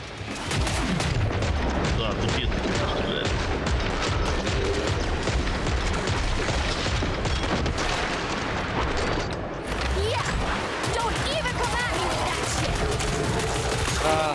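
Dense, continuous gunfire and explosions from the game Killing Floor 3 fill the whole stretch, with bursts overlapping constantly and a voice talking now and then underneath.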